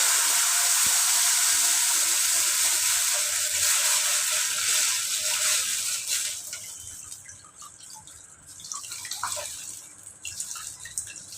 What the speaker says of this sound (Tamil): கரைச்சி வச்ச இந்த ரசத்தை ஊற்றிடலாம்.